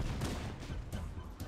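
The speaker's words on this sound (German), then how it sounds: "Erstmal draufschießen." Rapid gunfire in the Halo video game, fired at a creature, a dense steady barrage of shots with sharp bursts over a low rumble throughout.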